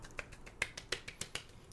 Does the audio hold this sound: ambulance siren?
no